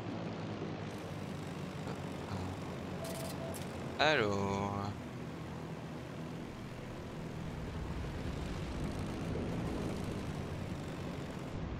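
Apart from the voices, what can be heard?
airplane engine in flight, from a video game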